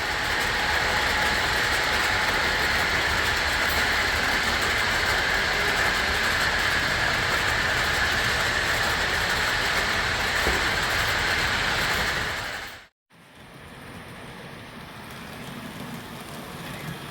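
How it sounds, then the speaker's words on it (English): Model railroad passenger train of about 22 cars with three engines rolling steadily along track on a large layout, a continuous close rumble and clatter that cuts off abruptly near the end before a quieter hum resumes. "Very impressive passenger train."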